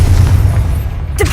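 A Confringo blast spell in Hogwarts Legacy, a loud low boom that rumbles through the moment and ends in a brief bright crackle near the close.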